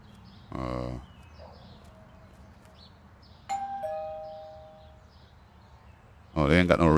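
A doorbell in a video game chimes twice, a buzzy tone early and a ringing ding-dong later, amid a quiet background hum, with a louder burst at the end.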